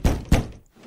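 Two heavy knocks on a wooden door, close and fairly loud, spaced about a quarter second apart with a brief dull tail and no voices.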